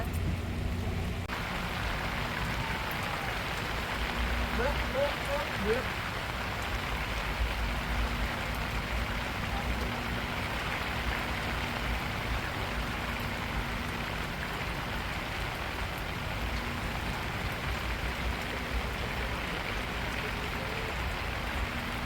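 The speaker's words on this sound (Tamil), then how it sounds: "மழையை பாருங்க நல்லா ஊற்றுது மழை" Steady, dense rainfall pours down continuously, a thick hissing wash with a low rumble beneath, no voices.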